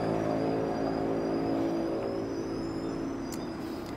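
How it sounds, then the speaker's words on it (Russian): Street traffic with buses and motorcycles below a balcony makes a steady, continuous mid-distance drone of engines, with no talk. "тут ездят автобусы, мотоциклы, поэтому могут фоновые шумы быть"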